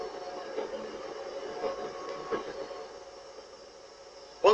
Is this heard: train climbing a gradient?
yes